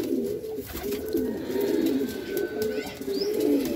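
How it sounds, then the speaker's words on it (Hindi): Pigeons let out of their coop in the morning, soft repeated cooing close by with flutters of wings, steady throughout and with no talking. "सारे कबूतर भाई बाहर निकाल दिए हैं जितने उड़ने वाले हैं अपने।"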